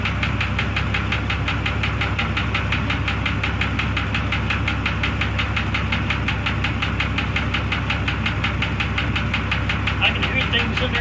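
Internal mechanical noise of a 2002 Jeep Grand Cherokee Laredo engine, picked up through a metal listening rod pressed against the block: a steady, dense knocking and throbbing hum with fast rhythmic pulses, loud and continuous throughout.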